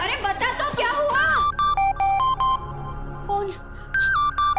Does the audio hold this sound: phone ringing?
yes